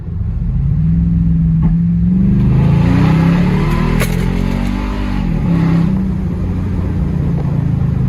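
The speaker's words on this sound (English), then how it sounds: "this is what the exhaust sounds like" Toyota Tundra pickup with exhaust cutouts open, its V8 exhaust rumbling loud and close as the truck downshifts, the pitch sliding down and rising again through a steady deep drone.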